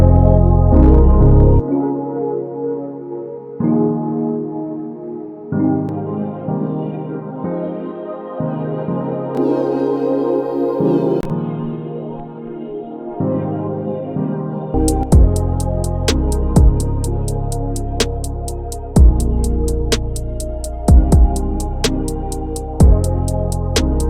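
A soft, hazy lo-fi piano plays sustained chords alone at first, then continues over a beat of crisp, regular hi-hat ticks and punchy kick drums.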